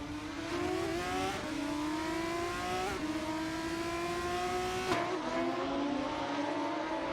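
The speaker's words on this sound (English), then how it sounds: "Assetto 39 is pushing hard, trying to catch up to Raphael from Team Blast in 11th" Formula 3 race cars lap COTA in a racing video game, high-revving engines whining steadily with rising pitch sweeps and gear-change dips, loud and continuous with several cars overlapping.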